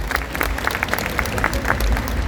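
A crowd of fans applauds Manabu and Takumi Tsutsui, the Jiraiya actors, at a guidebook launch, with dense continuous clapping throughout.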